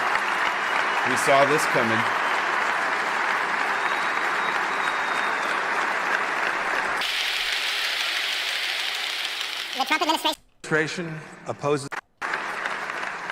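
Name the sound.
audience applause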